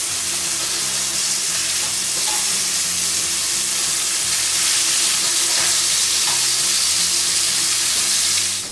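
Turkey breakfast sausage patties frying in a pan with a steady, continuous sizzle, close and fairly loud throughout, with faint stirring or scraping touches and no talk.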